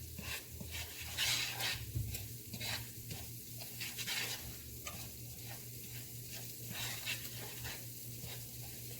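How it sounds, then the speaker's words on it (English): Tandoori masala meatballs, red with tandoori masala, sizzle in a pan. A faint, steady fry hiss is broken by intermittent scraping and stirring clatter, with no talking. "You can start to hear it sizzle now."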